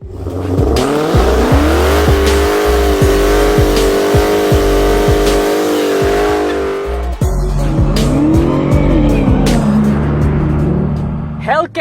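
A Hellcat 6.2-liter supercharged Hemi V8 revs hard and loud, its engine note rising and holding in long sweeps, with sharp bursts and a brief drop near the end.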